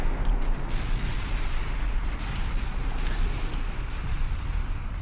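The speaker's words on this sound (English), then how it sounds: "firing on the cruisers." Battleship main guns fire on cruisers in the Ultimate Admiral Dreadnoughts naval battle game, heavy continuous rumble with a few distant booming reports breaking through, no voices.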